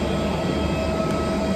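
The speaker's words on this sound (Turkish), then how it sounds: "Şu uçak çalışıyor. O yüzden bayağı gürültülü." A parked airplane's engine runs close by, a loud, steady broadband roar that fills the whole stretch with no break and no voices over it.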